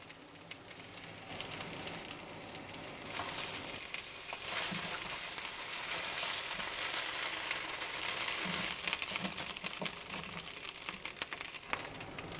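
Garlic and chile peppers char in a hot dry pan as they are turned, giving a steady, quiet sizzling crackle with scattered pops and scraping over several seconds, with no talking.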